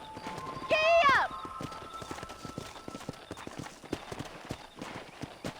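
Horse hooves clip-clopping at a steady gallop while riding in the western video game Red Dead Redemption, with a short whinny early on and a voice talking over the rhythmic hoofbeats.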